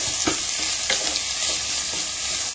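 Onions and green chillies sizzle steadily in a hot pan while being sautéed, a continuous broadband frying hiss with soft scraping stirs recurring every half second or so, close and fairly loud with no talking.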